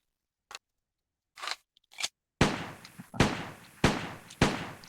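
Bergmann–Bayard model 1910 pistol firing in World of Guns: a few sharp mechanical clicks, then four loud, close gunshots in steady succession, each trailing off briefly.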